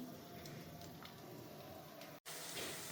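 Shrimp pakoras fry in deep oil with a steady, close sizzling hiss and soft bubbling crackles, briefly cut off once before resuming.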